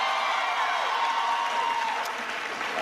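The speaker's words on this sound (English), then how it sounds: "Give her a big round of applause." An audience at a Benedict College event with President Obama applauds, a dense, continuous wash of clapping from many hands filling the room for a few seconds, with faint cheers mixed in.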